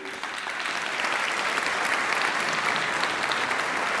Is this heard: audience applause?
yes